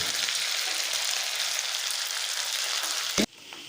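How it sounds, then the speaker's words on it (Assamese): Onions fry in hot oil in a pan for an Assamese fish dish with a loud, dense, steady sizzle close by, which cuts off abruptly near the end and leaves a faint hiss. No one speaks. "অলপ এইদৰে ভাজিব লাগিব।"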